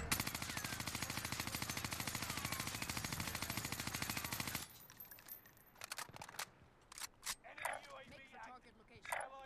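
Automatic weapon fire from a Vargo 52 or Armaguerra 43 in a shooter game: a loud rapid burst of evenly spaced shots runs for about four and a half seconds, then gives way to scattered clicks and faint game effects.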